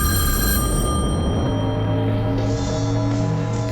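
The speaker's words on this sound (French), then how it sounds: "Puis, le téléphone se mit à sonner." Telephone bell ringing loudly and continuously, close up and alone with no voices, over a steady background hum.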